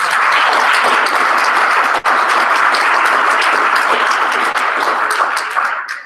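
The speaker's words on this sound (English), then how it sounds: "And so one more round of applause for them." An awards banquet audience applauds loudly and continuously, a dense wash of many hands clapping close by that tapers off at the end.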